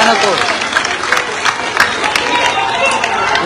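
A rally crowd applauds with dense, scattered clapping and a general hubbub. Voices and shouts carry over the clapping throughout.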